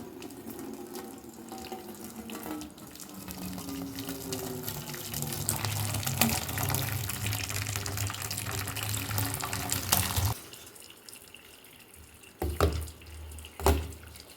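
Curdled milk strained to separate paneer from whey in a home kitchen, a continuous close trickle and splash of liquid running through a strainer for about ten seconds, then quieter with a few brief drips and clatters.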